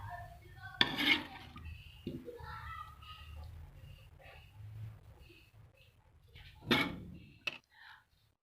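Arvi (taro root) curry is scooped from a pan into a serving dish, with a few clinks and scrapes of a spoon against metal and crockery spread across the stretch, fairly quiet and close.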